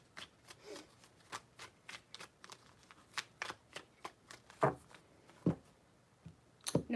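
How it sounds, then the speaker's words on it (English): Tarot cards are shuffled in a quiet, close series of crisp riffles and taps, irregular flicks building to a few louder snaps near the end. "Three shuffles."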